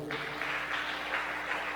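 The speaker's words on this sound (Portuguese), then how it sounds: "Aplauda mais uma vez o Senhor." Church congregation applauding at a Saturday conference, a soft continuous patter of many hands in a steady rolling wash, fairly distant and low in level.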